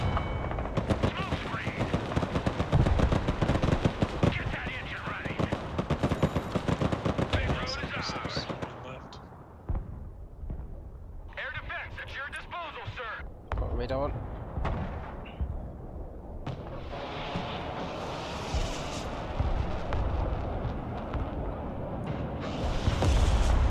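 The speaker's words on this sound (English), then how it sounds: "I'm gonna put up a smoke screen with the mortars." Mortars fire to lay a smoke screen in the Broken Arrow war game, amid dense bursts of gunfire and booming impacts, loud and continuous at first, then sparser blasts under a talking voice.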